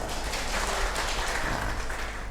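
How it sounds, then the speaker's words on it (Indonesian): A congregation claps during a Sunday service at HKBP Bonang Indah church, a steady, full wash of applause throughout with a low rumble beneath. "Tepuk tangan buat Tuhan."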